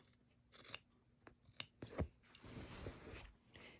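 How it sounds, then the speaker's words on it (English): Scissors cut a 2-inch fabric block for a bag gusset, making quiet, close snips and soft rasping slides of the blades through the cloth, in irregular strokes. "I feel I have more control with my scissors. So I am going to go ahead and I'm going to cut this 2-inch block out."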